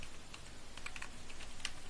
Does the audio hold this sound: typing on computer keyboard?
yes